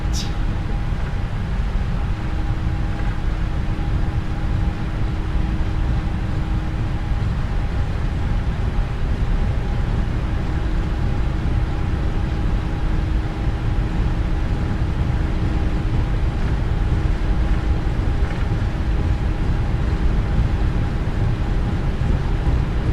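Takeoff-thrust jet engine roar from a PMDG 777-300ER in the MSFS 2020 flight simulator, a steady loud broadband rumble with a sustained tonal whine, running unbroken throughout.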